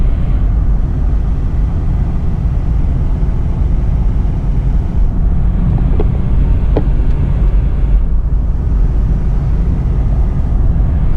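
BMW 650i Gran Coupe with a twin-turbo V8 accelerating hard, a loud, continuous low engine roar with heavy wind and road rumble and no talking.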